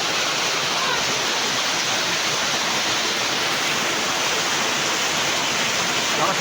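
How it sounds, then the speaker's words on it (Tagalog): Heavy sudden rain pours down steadily as a dense, continuous broadband roar, with drips falling nearby; no voices stand out. "Lakas ang ulan din"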